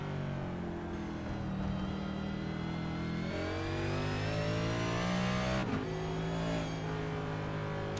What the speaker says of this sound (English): what we can hear out of Frankie Brosso's car.